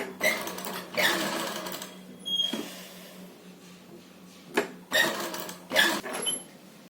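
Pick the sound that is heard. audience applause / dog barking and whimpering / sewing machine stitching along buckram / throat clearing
sewing machine stitching along buckram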